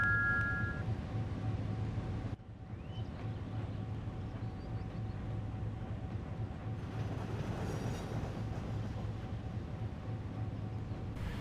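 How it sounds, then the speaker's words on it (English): A works train on a model railway departs with a steady rumble and faint rail clatter, a low hum running under it, and no voices. "And he went off with his train."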